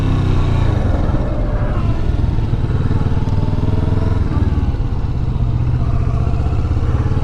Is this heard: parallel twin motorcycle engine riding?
yes